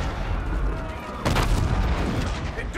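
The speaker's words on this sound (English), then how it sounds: "Our Aedis guns are still firing on our fleet." Heavy shipboard defense guns firing in the Call of Duty Infinite Warfare campaign: a steady roar of distant gunfire swells into louder booming blasts partway through, with a voice speaking beneath the battle noise.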